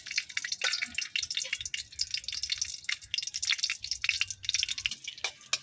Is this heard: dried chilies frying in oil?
yes